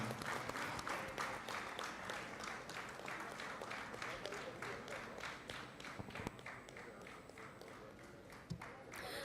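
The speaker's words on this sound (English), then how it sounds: "A big round of applause, ladies and gentlemen." Conference audience claps for an honoree at a union's triennial event, a continuous rapid patter of many hands that stays even for the whole stretch and eases only slightly toward the end.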